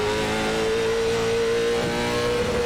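ZMax race car engine in iRacing at Langley Speedway drones loudly at steady high revs, a sustained close-up buzzing tone with slight pitch drift and no break.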